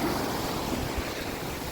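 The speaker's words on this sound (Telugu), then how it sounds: "వాటర్ అయితే మామూలు స్పీడ్ లేవు," Ocean surf rushing steadily at Paradise Beach in Gokarna, a continuous broad roar of waves with wind buffeting the microphone, loud and close, with no voices.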